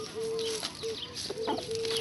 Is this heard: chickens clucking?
yes